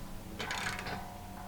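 A socket wrench tightens bolts with nylon locking nuts while assembling an in-ground basketball system, giving one short, fast ratcheting burst over a steady low background hum.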